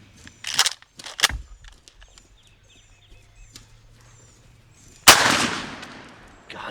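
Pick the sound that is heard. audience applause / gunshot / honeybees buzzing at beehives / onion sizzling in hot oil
gunshot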